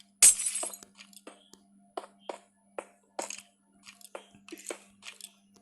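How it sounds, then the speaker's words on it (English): Glass blocks break in Minecraft with a string of short, crisp shattering clinks. The first hit is loudest and the rest come in an irregular rhythm, faint and close, over a steady low hum. Nobody speaks. "I really like the sound of breaking glass."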